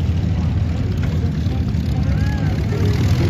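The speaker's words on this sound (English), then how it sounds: "Now on takeoff roll, Roger Maline and the CJ6." Nanchang CJ-6 propeller aircraft on its takeoff roll at an airshow, a steady low engine and propeller drone filling the background while an announcer talks over it.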